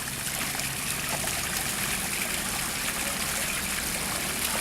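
Water runs steadily in a small park along a monster-themed street in Japan, a constant close rushing and trickling with no breaks and no voices.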